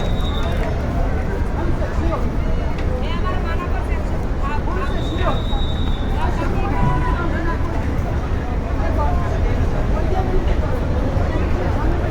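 The passenger launch MV Manami shifts into reverse on a busy river: a constant loud engine rumble and water churn, with crowd babble and distant horn tones mixed in.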